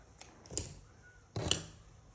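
Scissors snipping off a crochet yarn tail, two quiet separate snips about a second apart in a calm room.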